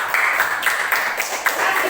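Rhythmic classroom clapping for the 'tepuk salut' clap chant at an elementary school, a few quick bursts of hand claps in a patterned beat mixed with children's chanting voices.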